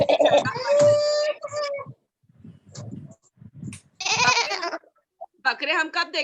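A child imitates a goat's bleat in a classroom, giving several wavering, nasal calls one after another, with other children's voices joining and chattering between the bleats.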